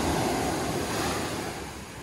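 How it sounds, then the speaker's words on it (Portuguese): Ocean surf washing onto a beach, a steady broad rush of breaking waves mixed with some wind noise, close and fairly loud with no talking. "Eu acho que eu não mostrei ontem tão de perto o mar."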